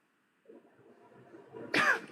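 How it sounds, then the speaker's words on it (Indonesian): One sharp cough bursts out near the end, following a moment of faint, rustling breath and shuffling close to the microphone. "Mau batuk dulu."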